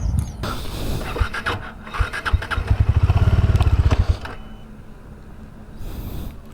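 A Dominar 400 motorcycle engine rumbles nearby, revving into a steady throbbing idle with a rapid pulsing beat before settling lower.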